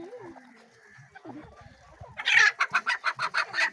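A rooster clucks in a rapid, rhythmic burst of sharp calls after quieter rustling and faint background noises, close and fairly loud.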